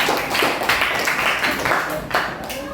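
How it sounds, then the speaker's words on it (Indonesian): A classroom of students claps together in a steady, dense patter of many hands, loud and close, with a teacher's voice speaking over it. "Berikan sekali lagi tepuk tangan ya."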